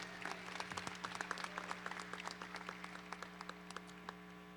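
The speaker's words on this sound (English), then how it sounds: "let's hear another round of applause for our student athletes from Rowlett High School." A crowd at a high school signing day event gives a round of applause for student athletes, faint and distant scattered clapping that carries steadily throughout.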